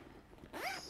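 A zipper on the pocket of a large-capacity men's commuter backpack is pulled open in one quick, close, rasping stroke after a brief quiet pause.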